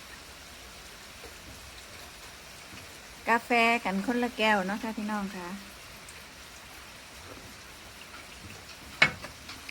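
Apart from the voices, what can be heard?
rain falling outside a house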